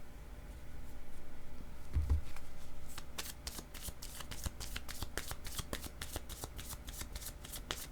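Playing cards shuffled by hand for a card reading, a soft riffling at first followed by a steady run of crisp, rapid card snaps, close and alone with no talk.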